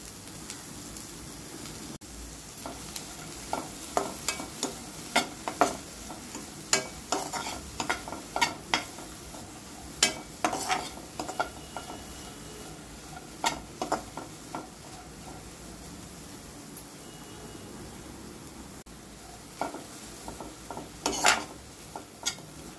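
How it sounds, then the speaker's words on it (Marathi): Onions fry in a kadhai toward light brown under a soft steady sizzle, while a spoon clinks and scrapes against the pan in repeated close strokes, in bursts across the stretch. "कांदा हलका ब्राऊन असा भाजून घेणार आहे।"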